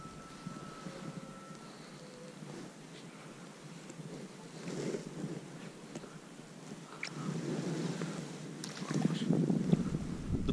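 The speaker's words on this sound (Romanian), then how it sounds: "Vântul acesta nu s-a oprit toată ziua" Steady wind blows outdoors during an autumn chub fishing session, a low rushing noise that builds into stronger gusts toward the end, with no one talking.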